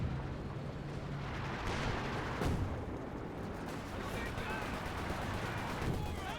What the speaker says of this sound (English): Caught here with the Vicus machine gun there and suppressed